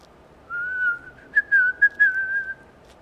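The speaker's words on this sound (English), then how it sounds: "I'm not good whistling" A person whistles a short, wavering tune for a few seconds, clear and close, with no other sound behind it.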